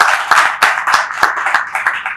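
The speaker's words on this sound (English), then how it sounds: "Can we please give Olaobo Alabi a resounding applause?" Audience applause for a panelist at a strategic finance summit, a steady wash of many hands clapping with distinct sharp claps popping out, fairly loud and close, no talk over it.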